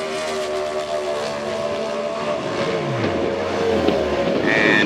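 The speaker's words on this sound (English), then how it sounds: "Taylor going to bring the RPMs up." A competition eliminator drag racing car at Belle Rose, Louisiana, runs loudly up close with a clutch, its engine note climbing steadily as the RPMs rise, with a steady drone building louder toward the end.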